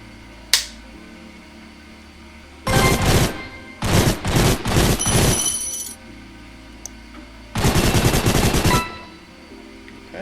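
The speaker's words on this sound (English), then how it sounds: "Rifle will now do burst shots" Bursts of rifle fire in the VR shooter Gun Raiders: a short volley, then several rapid clustered bursts, and after a pause one more sustained burst, loud and sharp against a quiet background.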